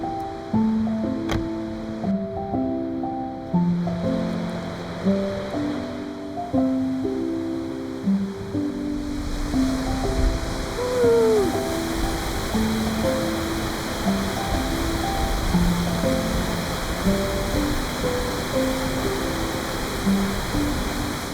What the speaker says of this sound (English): So if you really love waterfalls, this is the place that you've got to come.